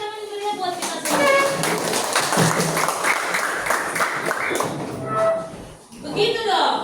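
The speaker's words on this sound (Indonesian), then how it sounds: "Kita tepuk tangan dulu ya buat kita semua." A classroom group claps together in a teaching session, with brisk, dense clapping that swells and fades in bursts, close and lively, mixed with voices.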